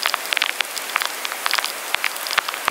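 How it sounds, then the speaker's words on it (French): Rain begins falling on a golf course, a steady hiss of drops patters close by, with scattered sharper tapping throughout and no voices. "là malheureusement il commence à pleuvoir"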